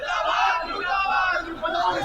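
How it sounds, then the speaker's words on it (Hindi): A protest crowd shouts slogans together in a dense wash of raised voices, with rising and falling chant-like swells that stay loud and continuous. "आज फिर भी थोड़ा सा नारेबाजी तक ही सीमित लग रहा है ये प्रदर्शन"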